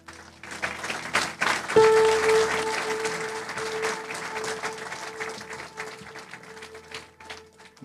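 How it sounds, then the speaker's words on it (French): A church congregation breaks into loud applause and cheering for Jesus Christ, swelling quickly to a sustained roar of clapping that carries on under a sustained tone before tapering off. "On acclame Jésus-Christ."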